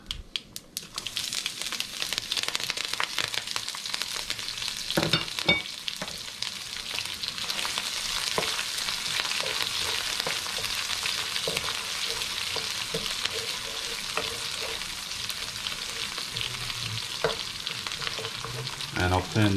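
Chopped onion, sliced green chilies and garlic cloves fry in oil for a Sri Lankan mango curry, a steady close sizzle with occasional stirring clinks and scrapes and no voices.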